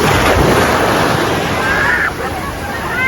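Sea waves wash onto a beach at Imsa in warm weather, a steady broadband rush of surf with wind noise on the microphone, continuous and fairly loud throughout.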